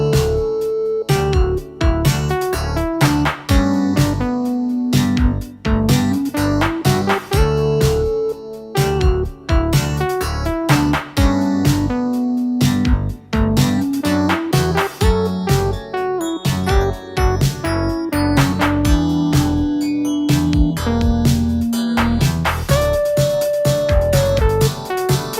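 Retro synthpop backing groove: punchy LinnDrum beat, a gliding bass line, and electric piano chords, looping steadily and loud with no voices.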